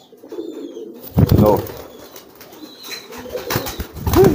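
Pigeons cooing nearby, with soft throaty coos and a brief flurry of flapping wings, heard alongside someone speaking.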